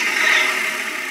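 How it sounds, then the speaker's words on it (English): A steady, tinny engine rumble and hiss from a Tamiya Grand Hauler RC truck's engine startup sound effect plays continuously at moderate loudness, like a small speaker running a motor sound. "It does the whole engine startup"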